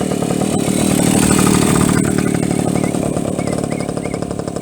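A BSA Bantam motorcycle engine runs steadily nearby, a loud, buzzy two-stroke drone with a rapid even pulse and little change in pitch, no voices over it.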